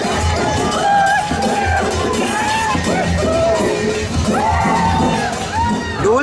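A large, noisy crowd at the Bhongra festival market in Vaijapur, with overlapping voices, shouts and children calling out close by and all around, a constant busy din with no pauses.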